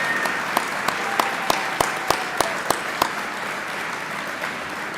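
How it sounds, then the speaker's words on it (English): Sparse, fading applause at a 2025 ICC Athletics Hall of Fame induction ceremony, with a few distinct claps spaced out over steady room noise before dying away. "Can we please give one more round of applause for all of our new Hall of Fame members"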